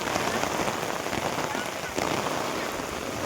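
Steady rain pattering on surfaces outdoors, a dense continuous hiss of drops that holds evenly for a few seconds, with a faint voice in the background.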